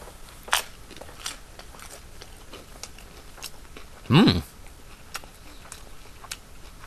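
A single crisp crunching bite into a beef taco loaded with lettuce, tomato, cheese, plenty of ground beef and hot sauce, close and fairly loud, surrounded by quiet room tone and faint clicks.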